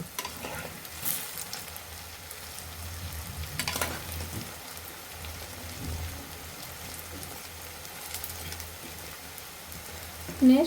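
Potato balls frying in hot oil give a steady, close crackling sizzle, with occasional louder scrapes and pops as they are turned, and no talking.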